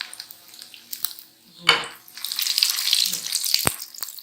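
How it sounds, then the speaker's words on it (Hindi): A scotch egg fries in hot oil in a pan, with utensil clinks and a sharp knock, then a building sizzle that holds through the second half, close by. "ये देखिए, ये चारों साइड से हमने इसको अच्छी तरह तेल में"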